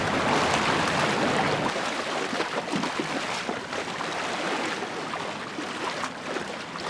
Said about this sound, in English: Can you hear the waves?